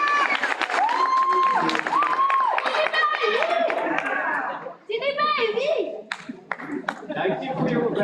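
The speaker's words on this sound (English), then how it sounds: "Another round of applause, ladies and gentlemen." Audience applause at a STADIO Waterfall spring graduation ceremony, steady and loud throughout, with an announcer speaking over it and whistles and cheers rising near the end.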